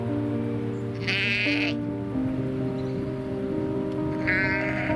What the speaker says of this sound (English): As we drive along, we spot a sheep in distress.